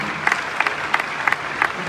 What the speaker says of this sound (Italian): loro meritano un più grande applauso